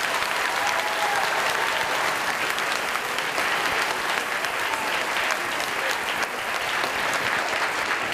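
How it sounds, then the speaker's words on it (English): A school crowd at South Lawrence East claps and cheers in a long, steady wall of applause, loud and close, continuing evenly throughout without any talking over it. "give yourselves a huge round of applause."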